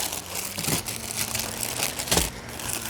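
A hand rummages in a plastic bag, giving short crinkling and rustling bursts at close range, irregular and fairly quiet, with no speech.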